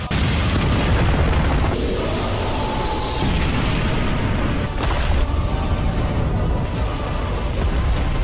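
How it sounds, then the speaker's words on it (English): A massive explosion sound effect erupts in a dramatic battle scene: a loud, dense, sustained roar with a brief rising whoosh, rumbling steadily for several seconds with no voices. "Suddenly, a massive explosion erupted where they stood."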